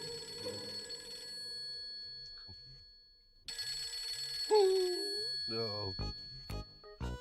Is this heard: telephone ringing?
yes